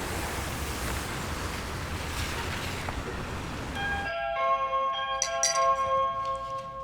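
A doorbell chime rings out clearly with several sustained, overlapping bell tones after a stretch of dense, noisy background.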